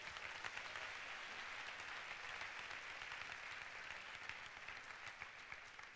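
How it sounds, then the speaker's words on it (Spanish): Sustained applause from a crowd, steady and dense clapping throughout without a break, moderately loud and filling the room. "Denle un fuerte aplauso al Señor."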